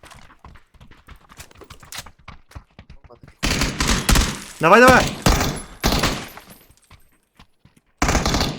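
Bursts of gunfire in PUBG on the Miramar map: scattered shots at first, then dense, loud volleys around the middle and again at the end, with excited voices shouting and talking over them.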